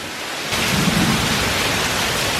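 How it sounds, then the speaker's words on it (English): Very heavy rain pours down hard during a thunderstorm power outage, a dense, steady roar that surges loud after a brief quieter start, with thunder rumbling low beneath the downpour. "I don't know if you guys can hear how loud that is, but this is the loudest rain I've ever heard."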